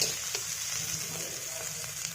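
Finely sliced pointed gourd (patol) frying in a pan, giving a continuous close sizzle with occasional soft stirring taps and no talk.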